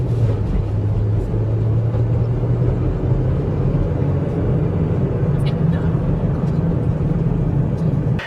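A car on a test drive after routine maintenance, heard from inside as a loud, steady low engine and road rumble that continues throughout, with a voice speaking over it.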